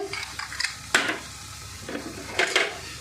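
Ground cumin and other spices stirred into hot oil in a pan for a rohu fish curry: soft sizzling with intermittent scraping and clinks of a spoon against metal, a few sharper knocks, close and fairly quiet.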